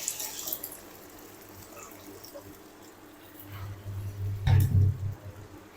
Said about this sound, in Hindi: और अब हम इसके अंदर ऐड कर देंगे पानी।